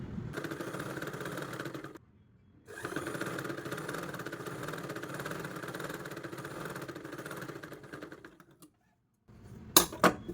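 A sewing machine runs steadily while stitching folded cloth for butta sleeve hands, its motor whirring with a brief pause early on, then stopping near the end before a few sharp clicks.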